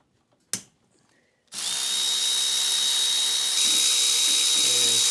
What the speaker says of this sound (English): loosen up our 6 cylinder head bolts